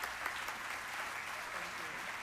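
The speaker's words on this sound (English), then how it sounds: "Let's give her one more round of applause." Steady applause from an audience at an awards celebration, a dense, even wash of clapping held at a constant level throughout, with no voices standing out.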